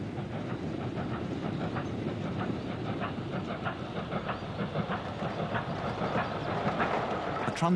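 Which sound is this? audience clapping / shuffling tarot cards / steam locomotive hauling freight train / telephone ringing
steam locomotive hauling freight train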